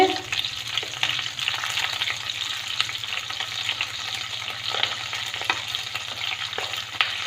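Onions frying in a pan while cooking soya chilli paneer, a continuous close sizzle with occasional stirring scrapes and no talking.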